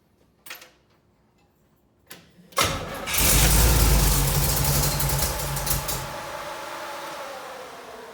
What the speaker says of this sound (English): So we're gonna run it and see how much flow we have out of the top of the engine.